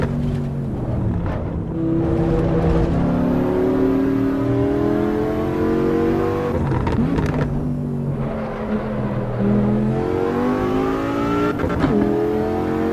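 A Porsche 911 GT3 engine in the racing game Assetto Corsa EVO on the Nordschleife, revving up and down through repeated upshifts and braking dips, loud and continuous with no talking.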